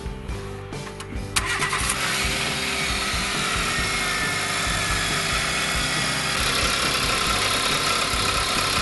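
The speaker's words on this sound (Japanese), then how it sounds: "今普通にオイル交換してちょっと暖気後にアイドリングしてます" A car engine, warmed up after an oil change, cranks and catches, then settles into a steady, loud idle that runs on evenly with a mid-pitched mechanical drone.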